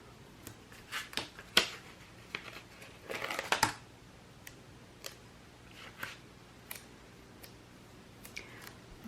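Scissors snipping through stiff washi-like decorative paper at close range, a few quick crisp cuts with light paper crinkling between them, alone.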